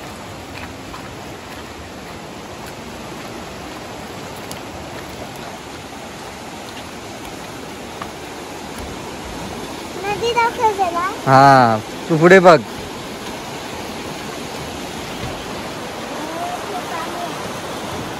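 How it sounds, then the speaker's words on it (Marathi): Heavy monsoon rain pours steadily in rural Konkan, a dense, even wash of noise throughout, with people briefly talking partway through. "मंडई पाऊस लय जोरात पडता कोकणात"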